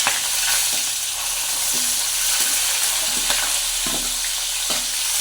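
Onions sautéing in a pan make a loud, steady sizzle throughout, with occasional brief scrapes and stirs sounding close by and no talking.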